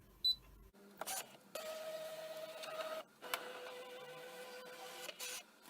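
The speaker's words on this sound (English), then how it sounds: "load it into the machine, and again I'm going to scan in my vinyl" A ScanNCut cutting machine loads a mat holding red self-adhesive vinyl and scans it: a close, steady motorized whirring that starts and stops in several stretches, broken by clicks and short pauses, with no talking.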